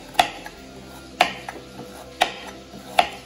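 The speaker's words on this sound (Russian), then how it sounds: "Лук и морковку нарезаем в хаотичном порядке" A knife chops onion and carrot for plov in four sharp, evenly spaced strokes about a second apart, crisp and quiet against a still kitchen.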